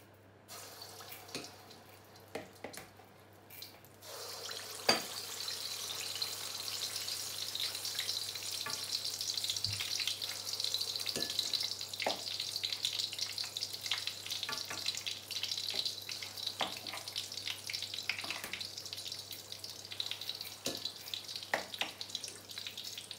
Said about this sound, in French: You need to deep fry until it's golden brown.